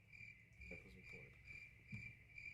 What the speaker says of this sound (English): Crickets sound effect.